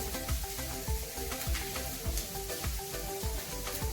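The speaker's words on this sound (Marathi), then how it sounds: "आता याच्यामध्ये मी हा कांदा भाजून घेते" Onion frying with salt in a pan, a close, continuous crackling sizzle with small popping bursts throughout and no talking.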